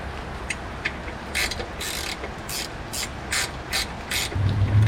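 A ratchet wrench tightens nylock nuts with flat washers on a Nissan V35/G35 subframe, producing bursts of rapid clicking in quick, uneven runs, close and clear against a low background hum.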